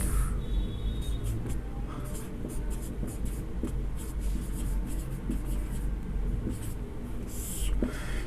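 Marker or chalk scratching on a board during a chemistry lesson on aldehydes and ketones, with steady squeaky strokes in short bursts and pauses, fairly quiet, no speech.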